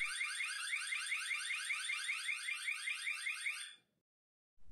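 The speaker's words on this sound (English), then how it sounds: "the camera will trigger a siren and an anti-break alarm when it is removed" A loud, piercing electronic tamper alarm siren from a LaView DB7 doorbell camera warbles rapidly and continuously for several seconds, then cuts off abruptly into silence.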